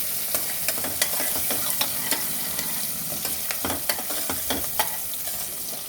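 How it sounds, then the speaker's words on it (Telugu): Garlic, onions, green chilies and curry leaves sizzle steadily in hot oil for a village-style potato and chana dal curry, with a spoon scraping and clicking against the pan at irregular moments throughout. "ఇలా వేగుతుంది."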